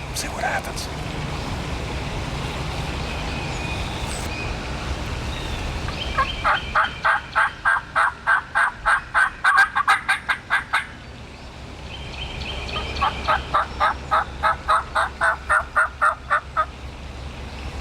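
Wild turkeys gobble back at a hunter's call in Tennessee woods on opening day of the season, two bursts of rapid rattling gobbles from several birds at moderate distance over a steady outdoor background hiss.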